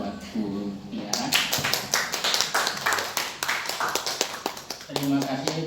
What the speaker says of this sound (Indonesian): Tepuk tangan sekali lagi buat Bu Tiara.